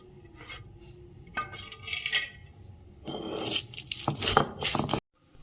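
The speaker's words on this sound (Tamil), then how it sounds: "நம்ம அம்மியில் வச்சு நல்லா கொரன்னு அரைச்சி எடுத்துக்கலாங்க" Spices are coarsely ground for rasam on a stone ammi, giving loud rough scraping and grinding strokes that come in bursts and pause briefly before cutting off abruptly.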